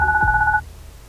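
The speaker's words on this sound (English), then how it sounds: "my baby phone's ringing" A baby phone in Goodbye Deponia gives one short, steady electronic ring that cuts off sharply, with a soft low thump beneath it.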